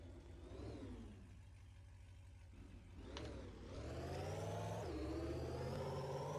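Camaro engine in the Roblox game Retail Tycoon 2, quiet and distant, revving up and down with rising whirs before settling into a fuller sustained drone.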